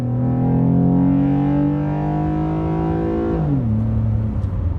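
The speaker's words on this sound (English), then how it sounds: "The launch from a roll is crazy." A 2014 Ford Taurus SE, naturally aspirated and front-wheel drive, accelerates hard from a roll, its engine drone climbing steadily in pitch, then dropping sharply on an upshift before building again, loud and close from inside the car.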